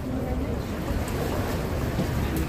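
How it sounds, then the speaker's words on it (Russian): A small boat pulls away across the sea at Suluada island in Turkey. A continuous low rumble of engine and waves is mixed with soft wind, heard at moderate distance throughout. "Вот уже одна лодка отплывает."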